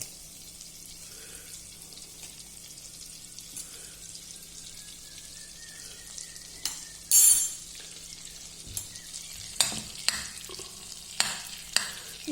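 Low, quiet sizzle of a small amount of fat melting in a pan over low heat, with occasional clinks and stirring sounds and no talk.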